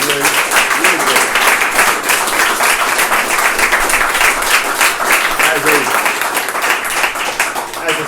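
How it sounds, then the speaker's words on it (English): A presentation audience gives a long, dense round of applause, loud and continuous throughout, with some voices mixed into the clapping. "I ask for a round of applause for Jerry and Justin at Sydney."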